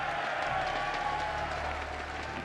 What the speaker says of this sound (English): The crowd getting their cheer on and some hype out there.